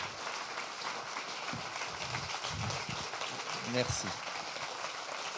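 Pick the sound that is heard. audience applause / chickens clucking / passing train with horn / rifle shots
audience applause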